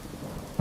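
Heavy thunderstorm rain with a deep rumble of thunder rising loudly at the end, a short dramatic burst after steady low rain hiss.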